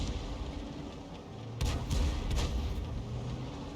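A leFH18B2 artillery gun in a tank video game fires a round, one heavy boom followed by rumbling echoes over steady battle background noise.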